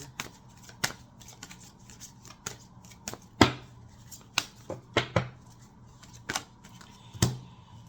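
Tarot cards are handled and shuffled nearby, giving crisp irregular snaps and riffling clicks spaced through the moment over a quiet background, with no talking.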